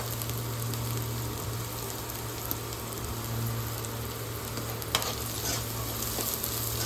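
Ginger, curry leaves and asafoetida sauté in a hot pan for a Tamil kara paniyaram recipe, giving a steady close sizzle with occasional stirring scrapes and taps.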